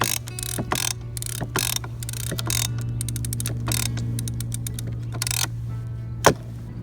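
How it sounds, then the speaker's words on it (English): A ratchet strap cinching down lumber slabs at a sawmill, sharp repeated clicks of the pawl in uneven bursts over a constant low hum, close and fairly loud. "Put your ratchet handle in. Put your strap in. Start tightening it down."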